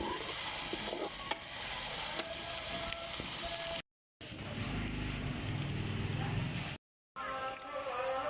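Onions hit hot oil in a kadhai and fry with a steady, crackling sizzle, fairly faint and continuous, broken by a couple of short gaps.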